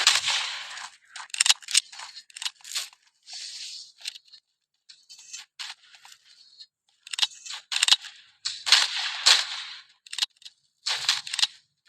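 Gunfire in a war video game: sharp, crackling shots in quick bursts and short volleys, scattered unevenly with brief gaps, fairly close and clear with no talking.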